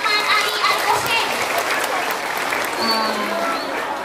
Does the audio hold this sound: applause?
yes